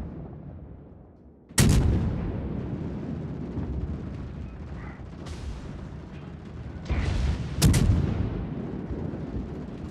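Heavy naval gun salvos from the battleship New Mexico in World of Warships, two sharp, loud booming blasts around two and eight seconds, each rolling into a long rumbling tail over steady low ship and sea noise.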